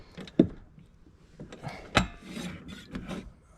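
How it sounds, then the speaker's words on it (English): A bicycle's front brake disc rubbing against the pad, short scraping rasps in an uneven rhythm, close and fairly quiet, with two sharper clicks. "it is now rubbing against this side"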